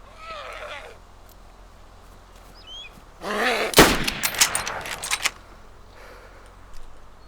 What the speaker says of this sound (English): I'm gonna shoot a zombie, okay?